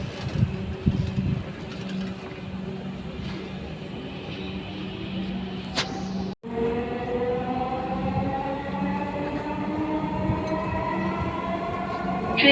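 A Dhaka metro rail train bound for Motijheel runs with a steady rolling rumble inside the carriage, briefly cutting out before a rising motor whine builds as it picks up speed.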